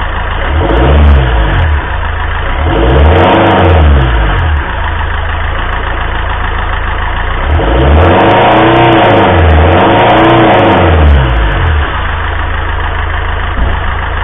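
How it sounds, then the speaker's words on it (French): A Citroën C5 engine revs hard with the accelerator, climbing and falling in two long surges over a steady idle, loud and close, with no talking. "J'ai donné un coup d'accélérateur pour voir, normalement la voiture elle va pas accélérer."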